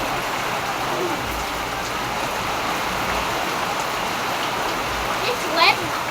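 Heavy rain with wind pours steadily as a dense, even hiss close by, broken only by a brief squeak near the end, with faint voices mixed underneath.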